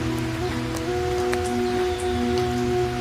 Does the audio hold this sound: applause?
no